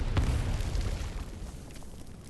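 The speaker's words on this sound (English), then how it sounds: "A loud explosion rings out high up above, and its massive shockwave shoves Jessica to the ground." A deep, rumbling explosion booms in an Arknights game scene, a heavy shockwave blast that rolls on and slowly fades with no voices over it.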